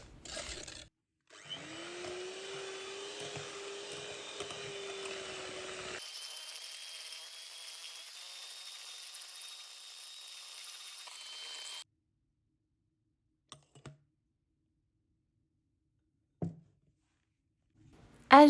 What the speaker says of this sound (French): je vais terminer de bien fouetter avec le fouet électrique jusqu'à ce que le mélange s'éclaircisse et double de volume